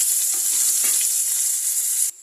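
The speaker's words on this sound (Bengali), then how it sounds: "এই তেলের মধ্যে আমি পেঁয়াজটাও ভেজে নেবো।" Onions crackle and hiss in hot oil, a close steady sizzle with faint scraping, stopping suddenly just before the end.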